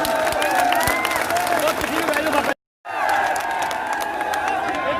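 A crowd applauds and cheers at a farmers' support rally in Mansa, with steady dense clapping that breaks off in a brief gap and then resumes.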